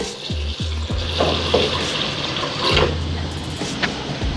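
Water pours and splashes into a container of soaking urad dal lentils and fenugreek seeds in an uneven, continuous stream, close by, with a few brief clinks and bubbling sounds.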